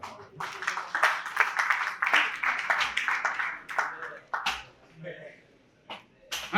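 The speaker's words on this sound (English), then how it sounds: "Please, a round of applause for Chief Fidelis Duka." Audience applause at a film festival in Enugu, a burst of uneven clapping that swells and then thins into scattered claps, with a voice speaking near the end.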